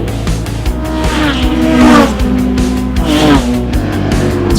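Improved Production race cars lapping Morgan Park circuit in the season finale, engines roaring loud and close with rising and falling pitch as they rev through gears and pass, with a brief tyre squeal.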